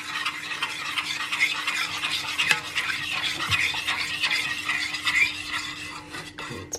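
A spoon stirs a whole 300 gram jar of raspberry jam into chocolate cupcake batter, giving soft, continuous scraping and squelching strokes against the bowl, close and fairly quiet, with a few light clinks.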